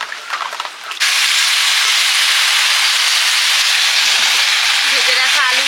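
Chicken curry with fried potatoes tipped in, sizzling hard in a pan: a loud, continuous bright hiss that starts suddenly after a second of quieter sound and holds steady to the end.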